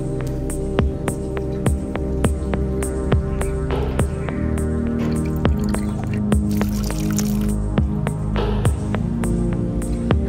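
Water drips drop by drop at a steady pace, each small plink sharp and close, over a constant low hum.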